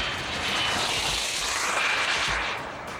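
RC airplane flying at a pylon racing event, a steady broadband engine drone that stays loud and close for about three seconds, swelling slightly and fading near the end with no talk.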